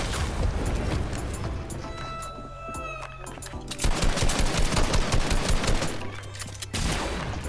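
Loud Fortnite gunfire comes as rapid automatic bursts and single cracking shots that overlap throughout, with a harder barrage in the second half.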